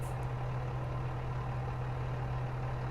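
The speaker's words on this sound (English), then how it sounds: "Sounds like a diesel." A diesel engine idling in the video game Out of Ore, a steady low drone with a constant hum and even rumble throughout, close and unchanging, with no talk.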